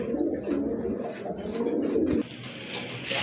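A pair of Giribaz pigeons coo in a low, rolling, repeated purr, close and fairly loud, running almost continuously before a brief dip and resuming, with no talking.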